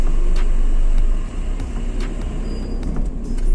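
A learner driver's car pulls away in city traffic, its engine rumbling loud and close at first, then dipping briefly before building again over steady roadway noise.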